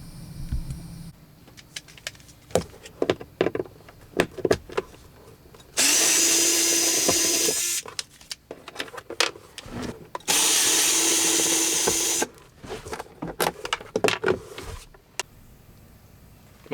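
A power driver backing Phillips head screws out of interior trim on a 2004 Honda Element, two sustained whirring bursts of a few seconds each, surrounded by scattered clicks and clatter of handling parts and tools.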